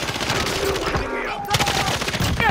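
Rapid automatic gunfire rattles through a PS5 shooter match, with several overlapping bursts that sound close and loud and keep going without a break. A faint voice can be heard underneath.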